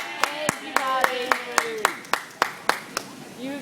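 A small group clapping for a Costco member service manager, about a dozen distinct, evenly spaced claps with voices talking over them.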